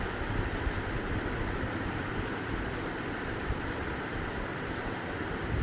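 Continuous broadband rumble and rushing hiss of a Vande Bharat train running at speed, heard from inside, steady and even with no voices.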